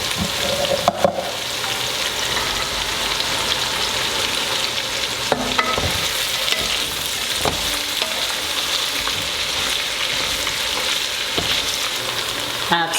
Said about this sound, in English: Now we add the okra, and boy does this smell so good.